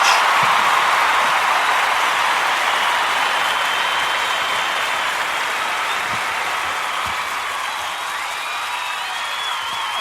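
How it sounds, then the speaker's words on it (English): A live studio audience claps and cheers for a comedy show, a long sustained roar of applause with scattered whoops, loud and steady, slowly easing off toward the end. "The clapping is my favourite part of the show"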